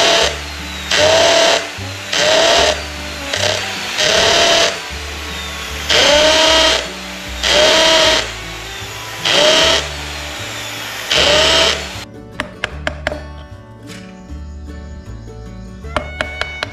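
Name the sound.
electric drill boring holes in wood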